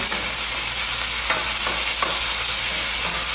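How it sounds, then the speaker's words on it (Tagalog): Sliced onion sautés in olive oil in a pan, a loud, steady sizzle with a few scrapes and stirs of a utensil against the pan, no voices. "Lagay ko na sa pan, lagyan ko siya ng olive oil. Lagay ko na itong hiniwa kong onion."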